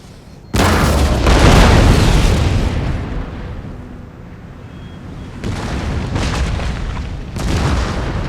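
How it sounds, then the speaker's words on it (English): Howitzer artillery fires in the video game Empire: Total War: a heavy, close boom with a long rumbling tail, followed by further deep blasts a few seconds later. "Our howitzers are working."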